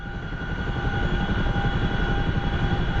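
A damaged Chinook helicopter shaking in DCS, a steady loud rotor and engine drone with a rapid rhythmic throb, close and continuous, with no talk.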